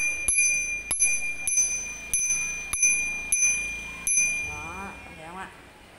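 A bell on a child's bicycle is rung in a steady series of sharp metallic rings, about one every half second, loud and close, followed by a few seconds of a voice.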